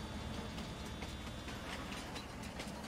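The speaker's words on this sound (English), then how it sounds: "Train took off on me for no reason." A freight train pulling away in Farming Simulator 19, with faint, steady rolling and clattering wheel noise that stays even throughout, no voices.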